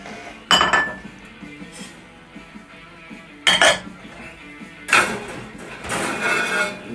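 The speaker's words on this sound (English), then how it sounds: "Take your plates out of the oven." Oven plates being lifted out and set down in a home kitchen, three sharp clattering clinks of crockery spaced a few seconds apart, with quieter handling noise between.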